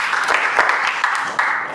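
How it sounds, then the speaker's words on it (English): An audience applauds at an entrepreneurship and financial intelligence talk, a steady wash of clapping with a few sharper claps standing out, sustained for under two seconds. "Can you also give her a round of applause?"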